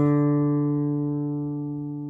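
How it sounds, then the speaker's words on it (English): A single open D on the fourth string of an acoustic guitar, plucked once close up and left to ring alone, fading slowly over about two seconds. "We'll play the 4th string open as a D."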